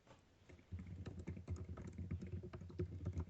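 Laptop keyboard typing: rapid, uneven clicks of keys pressed in quick bursts, close and moderately quiet, starting faintly and continuing steadily without any talking.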